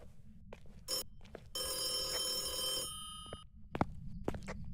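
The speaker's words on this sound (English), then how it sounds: "Phone." An old-style telephone bell rings in a haunted house in the ghost-hunting game Phasmophobia, one long bright ringing burst that cuts off abruptly, framed by scattered footsteps and soft thuds nearby.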